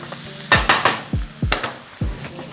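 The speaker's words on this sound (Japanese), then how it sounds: "さあ、一緒に炒めていきましょう。" Spiced keema curry ingredients stir-fried in a pan, with a spatula scraping and tossing in sharp repeated strokes over a steady sizzle, close and fairly loud with no talking.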